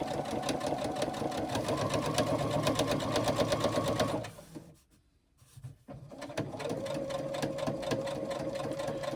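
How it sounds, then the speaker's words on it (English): A sewing machine stitches around a box on a pleated project in a steady close whir, pausing briefly midway as the needle stops to pivot, then running on at the same pace. "now I stitch around that box"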